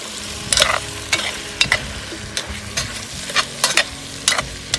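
Meat sizzles in a hot pan during woodland cooking, with a steady frying hiss throughout and repeated sharp scraping bursts as it is stirred, close and fairly loud, with no talking.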